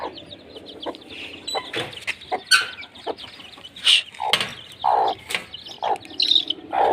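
Young hen chicks chirp in bursts nearby, with intermittent clucks from a hen between the calls.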